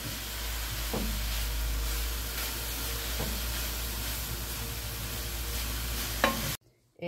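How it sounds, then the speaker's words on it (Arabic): Vegetables, including cabbage, are stirred and sautéed in a pan with a loud, constant sizzle and hiss, broken by occasional scrapes of stirring before the sound cuts off abruptly near the end. "كده يا جماعه خلاص شوحنا الخضار زي ما انتم شايفين كده"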